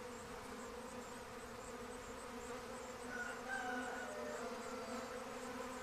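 A swarm of honey bees (Apis mellifera) drones in a steady, dense buzz that holds level throughout, with a few higher whining tones from individual bees passing close.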